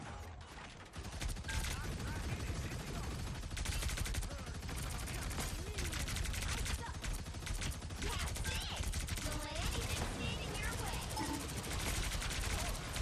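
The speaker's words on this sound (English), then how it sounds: "I'm turreting one." In Marvel Rivals, the Punisher's mounted turret fires rapid, continuous bursts for a long stretch, loud and close, with mechanical clatter layered over the gunfire.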